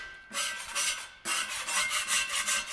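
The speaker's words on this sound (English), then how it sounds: "So I'm just going to use my scraper here just to scrape it off, just to scrape off the big bits." A metal scraper rasps across a rusty cast iron griddle, taking off rust and old seasoning in two long, loud passes separated by a brief pause, the gritty scraping close and continuous.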